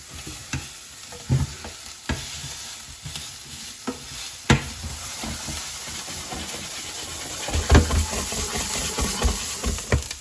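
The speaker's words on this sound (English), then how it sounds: "The reason I'm frying the onions now, I want all that flavour, the oil, everything in the bottom of the pan." Onions fry in a pan with a constant loud sizzle and hiss, broken by occasional stirring scrapes and clacks of a utensil, close up with no talking.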